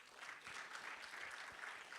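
An audience at an African digital asset conference claps steadily, a faint, even patter of applause heard at a distance for a couple of seconds.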